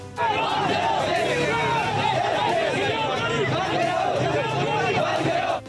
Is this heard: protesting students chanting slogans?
yes